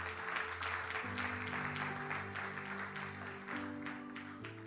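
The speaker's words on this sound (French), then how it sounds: "Acclame très très fort pour le Seigneur." A church congregation applauds and cheers loudly for the Lord at a prophetic sermon, a steady dense roar of clapping and voices lasting throughout with organ-like sustained tones underneath.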